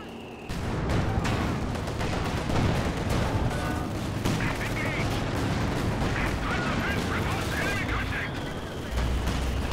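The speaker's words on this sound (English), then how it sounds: "There's a Werfer barrage, perhaps targeting these." Werfer rocket artillery barrage in Company of Heroes 2, a dense rumble of overlapping blasts and impacts rolling on for several seconds while someone talks over the battle.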